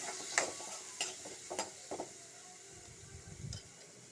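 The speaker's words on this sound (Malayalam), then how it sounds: "മഞ്ഞൾപ്പൊടി ചേർത്തിട്ട് നമുക്ക് നന്നായിട്ടൊന്ന് ഇളക്കി കൊടുക്കാം" A spoon stirs tomatoes and turmeric powder frying in a pan for a quick pappadam curry, with soft intermittent scrapes and taps over a faint, steady sizzle.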